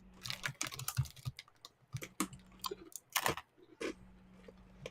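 Crunchy dog-treat cookies chewed by people near the microphone, giving a run of sharp irregular crunches and bites with brief pauses, loud and close, with no talking.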